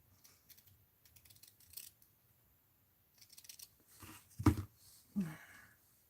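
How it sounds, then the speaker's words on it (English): Scissors snip a paper Charlie Brown tree ornament, trimming away black edges in several quiet, close cuts and soft paper rustles, sparse at first and then busier near the end. "I'm going to trim off some of that black"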